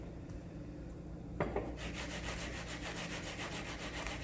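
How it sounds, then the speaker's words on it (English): Onion being grated by hand, a steady scraping rub that starts after a brief knock and continues close and fairly loud to the end, with no talking. "the reason that I'm grating it is I just want some of that nice onion flavor"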